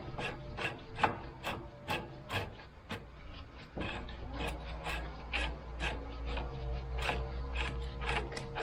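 A threaded adjuster on a Polaris RZR shock is spun by hand, giving a close series of rhythmic scraping, ratcheting rasps and metallic rubbing that repeat about once a second.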